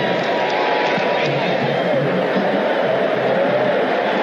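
A huge stadium crowd at a USFL football game between the Oakland Invaders and the Birmingham Stallions keeps up a continuous loud roar of babble and cheering, with voices and fans partly leaving.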